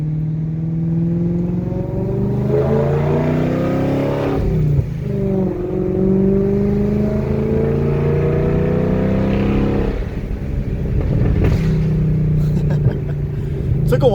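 A BMW 540i E39 with a straight-pipe exhaust idles with a deep, loud rumble, then rises in a couple of blips before settling back to idle, close to the tailpipe.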